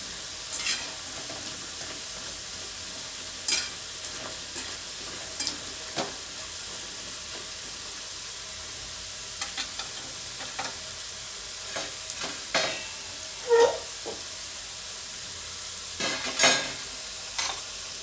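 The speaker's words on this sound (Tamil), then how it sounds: "சலசலப்பு அடங்கிச்சு நம்மளுக்கு வெந்துருச்சுன்னு அர்த்தம்" Bitter gourd pakoda frying in oil, a soft steady sizzle with scattered clinks and stirring taps from a utensil, moderately close.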